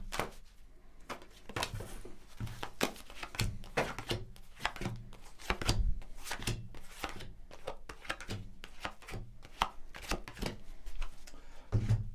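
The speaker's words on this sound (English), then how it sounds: "So I'm going to shuffle the cards" Tarot cards being shuffled close up, a steady run of quick papery riffles and soft taps lasting several seconds, with no voices.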